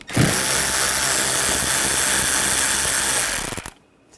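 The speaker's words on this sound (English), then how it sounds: "In the inner wheel well, we're going to take these screws out. Use a T20 socket." A power driver with a T20 socket spins out a bumper cover screw in the inner wheel well of a 2013-2022 Buick Encore 1.4L, a loud continuous whirring rattle lasting about three and a half seconds before stopping abruptly.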